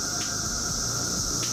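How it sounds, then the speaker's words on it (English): Millions of cicadas at Princeton Battlefield State Park in New Jersey make a steady, high, droning buzz that fills the air without a break, loud and continuous with no voices over it. "That is the sound of millions of cicadas clicking their wings together."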